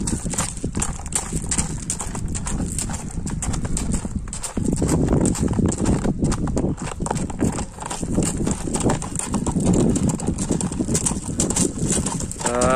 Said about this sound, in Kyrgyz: Көк ат жаныбар.